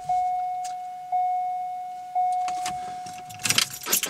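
Keys jangle with a few sharp rattles as the key is pulled from the ignition of a C5 Corvette, following three soft chimes and a steady warning tone, close and clear with no talking.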